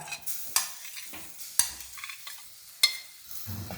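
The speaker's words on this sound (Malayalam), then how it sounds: "അപ്പോൾ 250 ഗ്രാം ചെമ്മീൻ വൃത്തിയാക്കി വെച്ചതാണ് നമ്മൾ ഇതിലേക്ക് ഇട്ട് കൊടുക്കുന്നത് കേട്ടോ" Cleaned prawns hit a hot pan and sizzle, with soft stirring scrapes and a few sharp clinks of a utensil against the pan, close and fairly quiet, with no talking.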